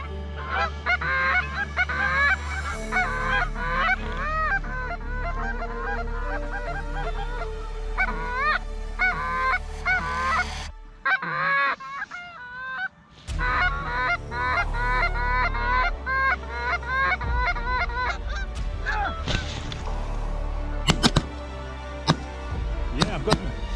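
A flock of geese honks repeatedly and loudly during a goose hunt in Sweden, calls overlapping as they circle close overhead, with a short lull midway and a few sharp clicks near the end.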